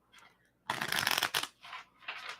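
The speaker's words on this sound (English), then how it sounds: "Let me shuffle one more time." A deck of tarot cards is shuffled close up: one loud papery riffle burst followed by a few shorter, softer flutters, with no voices.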